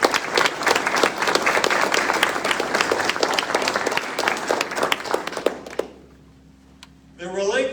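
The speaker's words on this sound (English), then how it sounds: "Please join me in a round of applause." An audience at a military relinquishment of command ceremony applauds in a dense round of clapping for about six seconds, then it fades to quiet and a voice begins speaking.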